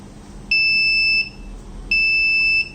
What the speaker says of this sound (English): initially the buzzer and LED will be on and off 2 times